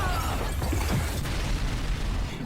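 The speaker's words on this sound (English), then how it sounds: "after a huge explosion goes off" A huge explosion in an anime fight scene between Josuke and Kira from JoJo rumbles loudly and continuously, a dense, roaring blast that fills the whole stretch without letting up.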